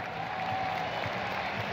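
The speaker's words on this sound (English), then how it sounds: "Jordy Barrett gets a massive cheer" A stadium crowd at the Tokyo Stadium cheers for Jordy Barrett during the All Black team announcement at the 2019 Rugby World Cup match against Namibia, a broad, steady roar and applause heard from within the stands.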